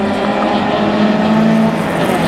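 A train of three closed-wheel race cars roars past at Mission Raceway, the engines loud, close and sustained with a steady droning growl and a faint tire squeal.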